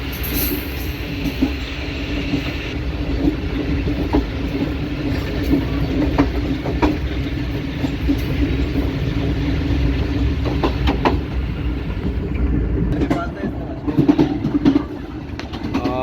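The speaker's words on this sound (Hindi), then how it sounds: "इस टाइम ट्रेन हमारी अप्रोच कर रही है मियाँ चन्नू रेलवे स्टेशन पे" Karachi Express slowing as it nears Mian Channu railway station on the Multan to Lahore run, a loud continuous rumble of wheels and carriages with faint clicks over rail joints and brief squeals near the end.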